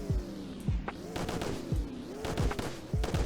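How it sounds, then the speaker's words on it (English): A car in Roblox Greenville revving hard, its engine firing in sharp, gunshot-like booms that repeat roughly every half second over a steady drone, loud and close. "But here's the revving test."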